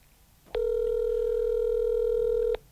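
A telephone dial tone sounds while calls are being merged: a steady, loud, unbroken tone lasting about two seconds, starting and stopping abruptly over a quiet background.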